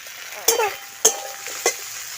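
Paneer and chilies frying in a pan for chili paneer, with three distinct scraping stir strokes of a spoon over a soft, steady sizzle, close and fairly quiet.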